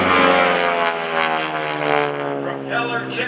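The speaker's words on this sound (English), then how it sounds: "Propeller tips going supersonic, that's why you hear that beautiful sound and that low throaty rumble." A 600-horsepower radial-engine propeller airplane passing at an airshow over Greenwood Lake, a loud sustained throaty drone with a rasping buzz from its supersonic propeller tips, close and continuous.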